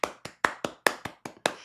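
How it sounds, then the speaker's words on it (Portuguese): About eight sharp handclaps land in an even, quick rhythm, fairly faint and isolated with silence between each clap rather than a full crowd's roar. "Salva de palmas para Lully por causa disso."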